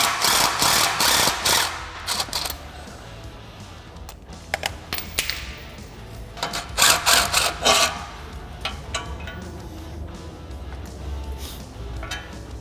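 A ratchet wrench loosening bolts on the front bumper of a Yamaha Wolverine RMAX ATV, with bursts of rapid clicking and metallic ratcheting in several close, loud runs separated by short pauses, no talking.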